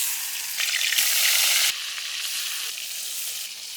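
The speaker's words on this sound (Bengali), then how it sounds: "মাছটা তেলে ভাইজে নেব" Katla fish coated in turmeric and salt sizzles steadily in hot oil in a pan, with a close, continuous crackle that swells louder for a moment midway and then settles back to a steady fry.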